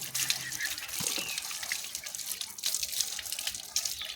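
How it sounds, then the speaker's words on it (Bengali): Homegrown pumpkin leaves being washed in water: a steady run of splashing and trickling, close and continuous, with no voices. "এবার এগুলোকে আমরা ভালোভাবে ধুয়ে নেব।"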